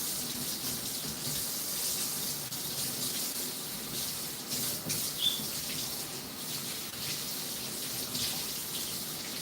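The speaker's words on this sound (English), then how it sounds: "Let's rinse this off since we cooked our beef." Water runs steadily from a kitchen tap onto a cutting board that raw beef was cut on, a continuous close hiss and splash with slight shifts as the board is moved under the stream.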